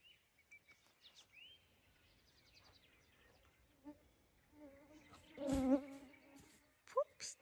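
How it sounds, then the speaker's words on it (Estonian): Mosquitoes and flies buzz close by on a wet old farm, thin whining drones coming and going in short bursts over a quiet background, with a few louder passes near the end. "ja sääski on nii metsikult palju"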